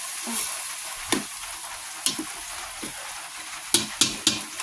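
Ground pork cooking for sinantolan sizzles softly in a pan as a spatula stirs and scrapes, giving several sharp clacks spaced across a steady fry.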